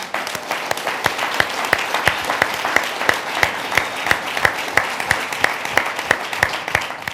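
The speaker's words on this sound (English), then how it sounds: "I want to ask for a round of applause for the Big Easy Restaurant" A room of attendees at a mayoral candidate forum in Trenton, held at the Big Easy restaurant, breaks into steady applause, a dense even patter of clapping with a few sharper claps standing out, with no talk over it.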